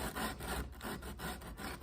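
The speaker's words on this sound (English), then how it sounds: "I'm trying to clean the joint inside here with some 220 grit sandpaper" Sandpaper of 220 grit rubs across the inside of a wooden dovetail neck joint on a guitar, smoothing steam-raised grain, in a steady back-and-forth scratching rhythm of short strokes, close and fairly quiet.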